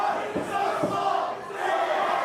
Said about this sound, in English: the crowd telling Rob Matter that he is so white, so small yet again